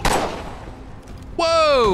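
Gunshots in the video game Assassin's Creed 3: a sharp loud blast opens, a reverberant tail fades, then a second burst arrives with a ringing, whistling metallic tone, with no talking.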